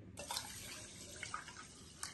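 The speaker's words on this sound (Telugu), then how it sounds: "అండి వాటర్ 3 కప్పులు వాటర్ పోయాలండి." Water runs in a steady pour into a pressure cooker holding rice and lentils, a faint, continuous splashing stream with a couple of small clinks.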